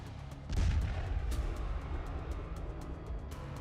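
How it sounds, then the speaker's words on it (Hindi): Land mine detonating in eastern Ukraine after a pig steps near Russian soldiers: a sudden loud blast with a deep low boom, followed by several seconds of rumbling debris and sustained noise, no talking. "अचानक रूसी सैनिकों के सामने एक सुअर आ गया और माइन में धमाका हो गया।"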